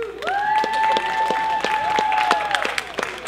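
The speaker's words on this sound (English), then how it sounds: "big clap round for Les." Audience applause and some cheering for a performer at an open mic night, steady rapid clapping from a crowd with a sustained whoop or whistle over it.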